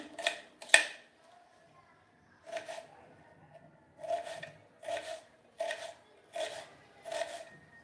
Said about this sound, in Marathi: आता इथं कांदा आपण हा असा बारीक चिरून घ्यायचा